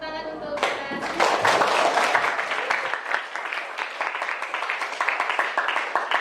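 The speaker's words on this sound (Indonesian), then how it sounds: "Tepuk tangan untuk kita." Classroom applause from teacher and students at the close of a guidance lesson: dense, steady clapping from a group, loud and close, running for several seconds after a brief voice at the start.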